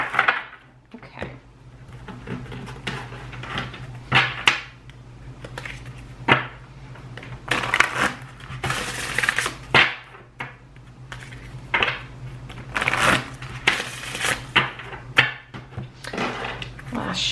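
Oracle card deck being shuffled by hand, a dense run of papery riffles, slaps and soft clattering bursts close to the microphone, with steady low hum underneath and no talking.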